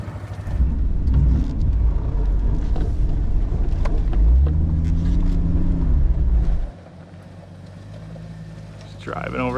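A Jeep Cherokee XJ with a long arm kit crawling off-road over rocks, a steady engine rumble that rises in pitch, then drops away to a quieter idle, with people talking over it.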